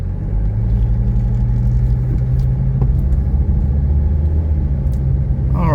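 A 1985 Mercedes 300D diesel engine idles steadily around 700 rpm, a low, even rumble with a loping beat that stays constant and close throughout, with no voices over it.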